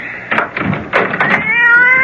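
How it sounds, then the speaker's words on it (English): A cat in an old-time radio mystery drama meows loudly several times in quick succession, the calls rising into a long, drawn-out yowl at the end, with no talk over it. "that damn cat!"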